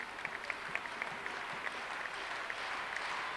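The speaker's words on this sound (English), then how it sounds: "2 minutes remaining as the Steelers fans begin to applaud" Sheffield Steelers fans applaud at an ice hockey game, sending out a steady patter of distant clapping from the stands in a large arena.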